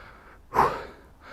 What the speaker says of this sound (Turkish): Nefes nefese kaldım.